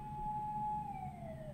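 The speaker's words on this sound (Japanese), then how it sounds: "なんか救急車だね" Ambulance siren passing by outside, a faint wailing tone that holds steady and then slides down in pitch as it moves away, heard over a low background hum without talking.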